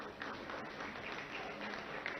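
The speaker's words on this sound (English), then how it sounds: "I want to applaud you and be recognized." Faint, distant applause from an audience at an inauguration ceremony for a mould shop and dual education centre, a soft continuous patter of hands heard through a muffled, roomy recording.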